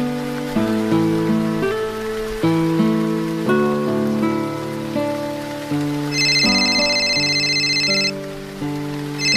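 Heavy rain pours outside as a steady, dense hiss that runs the whole time beneath a louder tonal melody and a brief high chiming tone.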